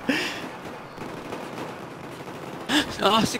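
Gunfire in the video game Battlefield 4, a few bursts of shots in a dense, noisy battle mix with a voice exclaiming over the top toward the end.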